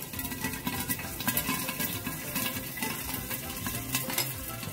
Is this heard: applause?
no